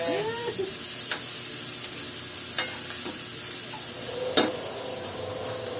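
Tomatoes, onions and garlic sautéing in a pan for pork afritada: a steady close sizzle with a few distinct spoon scrapes and clinks against the pan, no voices.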